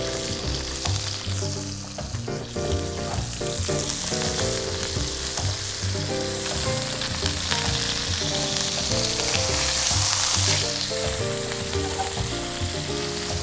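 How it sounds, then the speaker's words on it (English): Tuna, scallops and shrimp sautéing in a hot pan, a continuous loud sizzle and crackle with occasional stirring scrapes, heard up close without talk. "We're going to saute our tuna on both sides. We can add our scallops to it."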